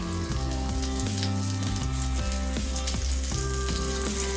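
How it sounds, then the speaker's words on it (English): Japanese chicken wings coated in flour and cornstarch fry in hot oil with a constant, crackling sizzle. A melodic background tune with shifting notes plays loudly over it throughout. "And that's going to fry."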